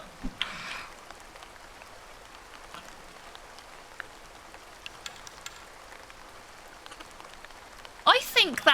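Soft rainfall in the cozy garden game Horticular, a faint, steady patter with occasional brighter drop sounds, ending in a louder burst of game chimes near the end.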